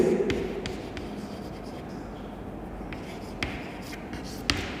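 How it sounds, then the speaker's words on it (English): Marker or chalk writing on a board during an economics lesson, a steady faint scratching under room hiss with a few sharp taps as strokes begin, no talking. "So we'll write here"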